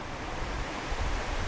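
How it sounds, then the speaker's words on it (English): Rain and gusting wind roar outdoors, a dense, steady rush that buffets the microphone with low rumbles during a motorcycle accessory install. "Sorry about the noise, we've got rain coming now."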